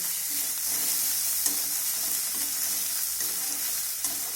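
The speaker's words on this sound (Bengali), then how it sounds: "এখন এই মশলাটা দিয়ে আরও একটু নাড়াচাড়া করে নেব।" Ground spice paste with fried onion is stirred in a pan for a cauliflower, potato and soybean curry, giving steady close sizzling broken by light scraping strokes every second or so.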